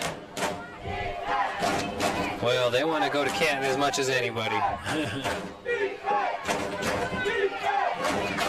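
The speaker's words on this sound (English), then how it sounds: "crowd is starting to get into it" Stadium crowd cheering and shouting at a women's football playoff game between Houston Energy and Nevada Storm, swelling in bursts under close commentary from broadcasters talking throughout.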